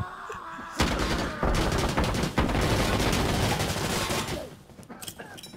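Sustained video-game gunfire, a dense, loud fusillade of rapid shots with booming bursts that rolls on for several seconds before tapering off.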